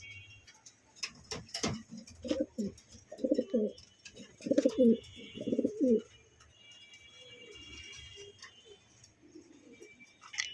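Homing pigeons coo in close, repeated soft rounded bursts clustered in a mid-clip run, with scattered wing flutters, clicks and quieter background cooing around them.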